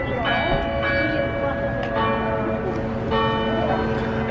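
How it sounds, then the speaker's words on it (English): Church bells ring out in a repeating pattern with a lingering, resonant tone, heard from some distance in Kingston over a steady background hum and faint voices. "There's a church down here also playing bells"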